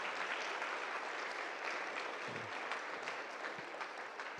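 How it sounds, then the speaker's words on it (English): Sustained applause from an audience at a school program honouring the drama class and technical crew, a dense, even wash of many hands clapping that holds steady at full strength throughout. "let's give them a hand today"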